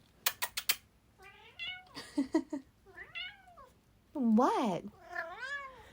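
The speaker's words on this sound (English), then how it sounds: "Uh-oh, my cat's looking for me." A cat meows repeatedly in rising, drawn-out calls, close by, after a few sharp taps, with a short spoken word in between.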